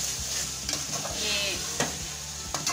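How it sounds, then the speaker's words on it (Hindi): Meat and potatoes stir-frying for karela gosht, a steady sizzle with occasional scrapes and clinks of the stirring spoon against the pan. "भून लिया मैंने और गोश्त और आलू भी सारे नरम हो चुके हैं"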